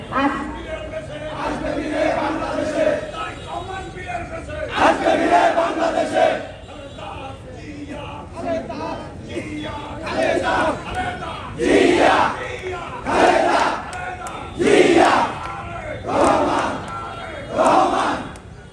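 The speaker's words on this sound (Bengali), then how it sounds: "এই যে আজকে আমরা স্লোগানটা দিলাম" Political crowd at a roadside BNP rally chanting slogans in loud rhythmic bursts, a leader's call answered by many voices in repeated waves, close and energetic.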